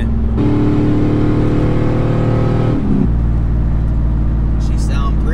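A pickup truck's engine hums at a steady idle, then blips up in a brief revving surge and drops back to a lower rumble, close and loud, with no talking.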